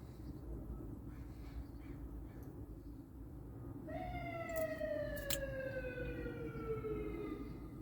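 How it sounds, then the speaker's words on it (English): A siren sweeps in partway through, a long descending wail over steady low rumble of traffic or engine noise, fairly distant. "Oh, we're going to hear a siren."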